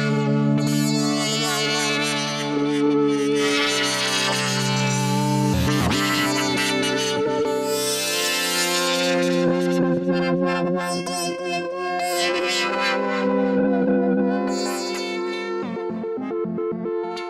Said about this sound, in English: Reverb, ooh-la-la.